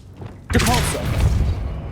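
A Depulso force spell cast in Hogwarts Legacy lands as a sudden loud booming thud, then a rumbling magical burst with a shimmering tail that lingers for over a second.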